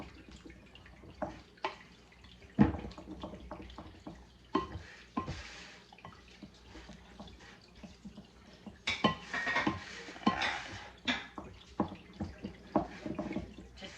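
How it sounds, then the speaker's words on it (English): Sourdough discard being stirred into chocolate chip waffle batter in a bowl, with irregular clinks and scrapes of a utensil against the bowl, some louder knocks, and wet sloshing throughout. "I'm just going to stir that in."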